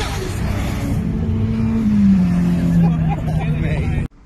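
A 610 bhp Nissan Skyline R34 racing at Silverstone during Japfest, its engine note a loud, sustained drone that rises and falls through a gear change, with crowd babble mixed underneath before cutting off abruptly.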